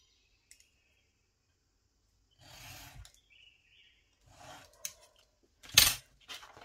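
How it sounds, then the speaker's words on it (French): Scissors cut through paper for a scrapbooking advent calendar box in a few separate close snips and rasping strokes, with quiet pauses between them and a sharper final cut. "Donc j'ai coupé ça jusqu'à la ligne du 4."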